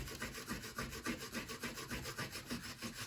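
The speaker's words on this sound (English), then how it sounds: "Sometimes I give like the whole thing a scuff just to lighten up the paint before black washing" Abrasive scuffing over the painted surface of a Bacta Tank scale model, a rhythmic back-and-forth rubbing of about a dozen quick strokes, close and fairly soft with no talking.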